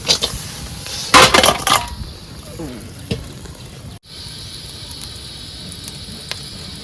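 Crab fries in hot oil in a pan aboard a boat, with a steady close sizzle and a loud burst of spattering early on before it settles back into a softer hiss.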